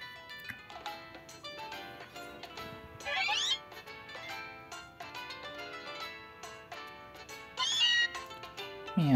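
A cat Pokémon meows in Pokémon Ultra Sun, with two short, bright cries rising over steady game background music.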